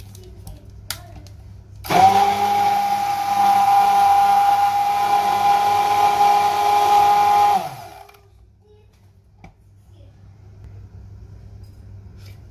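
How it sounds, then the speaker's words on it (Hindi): A kitchen mixer grinder blending bread with milk for malai bread kulfi, a loud steady whirring motor hum that starts sharply, runs for about six seconds and then winds down, with a quiet room before and after. "अब इसे ब्रेड के साथ हम मिल्क को ग्राइंड करेंगे डाल के"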